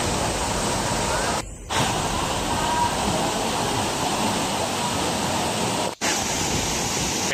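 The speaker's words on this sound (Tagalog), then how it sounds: "lakas ng pagbagsak ng tubig sa falls na to at mataas-taas din siya" A powerful, fairly high waterfall pours heavy falling water in a dense, steady roar that fills the whole clip, with two brief dropouts where the sound cuts away.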